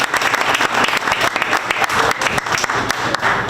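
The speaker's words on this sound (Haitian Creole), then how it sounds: "je vais demander une autre fois encore pour nous battre un gros bravo pour l'équipe solide" A fundraising gathering's audience applauds the team with loud, dense clapping from many hands, a steady crackling patter that stays close and sustained throughout, with no voices over it.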